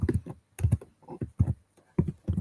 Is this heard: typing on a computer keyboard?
yes